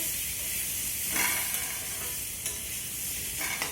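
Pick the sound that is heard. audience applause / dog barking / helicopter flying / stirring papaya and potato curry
stirring papaya and potato curry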